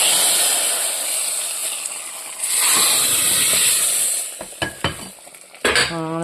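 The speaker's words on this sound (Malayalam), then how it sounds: "സാമ്പാറിനകത്തോട്ട് ഇത് ഒഴിക്കുക." Hot mustard-seed tempering poured into a pot of Kerala sambar with okra, a loud hissing sizzle that fades, followed by a few clinks of a metal spoon against the vessel.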